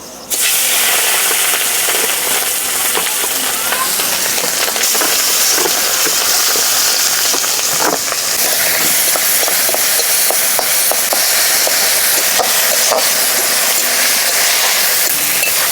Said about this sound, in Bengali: এখন দিয়ে দেবো এই ছোটো চিংড়িগুলো